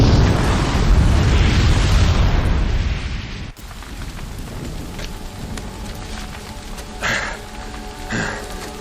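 A bomb booby trap blows up in Horizon Zero Dawn, a loud roaring blast with a rumbling, crackling wash that drops off sharply midway, followed by quieter debris rumble and a couple of short thumps.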